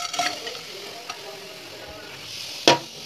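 Ingredients frying in oil in a kadai for an egg gravy make a faint, steady sizzle close by, broken by a sharp metallic clink near the end.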